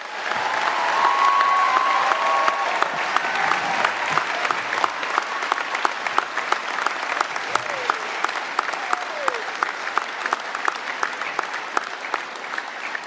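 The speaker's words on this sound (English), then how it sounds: "Can we give all of these beautiful graduates a big round of applause?" A large audience at a graduation ceremony for nursing and other graduates claps in sustained, even applause that holds steady for about thirteen seconds, with dense overlapping hand claps filling the hall and no talk over it.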